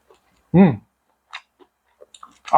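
Japchae, Korean glass noodles with beef, is chewed close up in a few soft, wet bites. A short voiced sound comes first, then scattered quiet chewing clicks.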